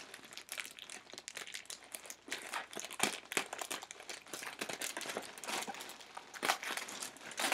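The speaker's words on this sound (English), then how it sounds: "Just gonna tear the bag." A plastic clothing package bag being torn open by hand, a continuous close crinkling and crackling of thin plastic with bursts of louder rips, no speech.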